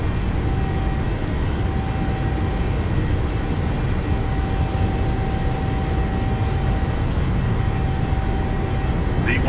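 A Ryanair Boeing 737-800 rolls down the runway for takeoff in Microsoft Flight Simulator 2020, a steady loud engine roar and rumble with a faint high whine running throughout.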